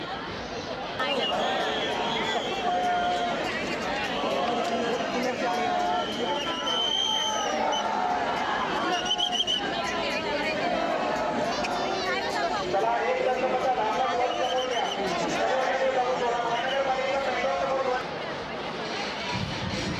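A dense crowd gathers at a Ganpati immersion procession in Pune, a continuous babble of many voices and hubbub with scattered louder shouts, close and steady throughout.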